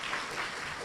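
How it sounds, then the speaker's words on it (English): An audience applauds at an author talk, a brief steady wash of clapping heard alone without talk. "give a round of applause for our"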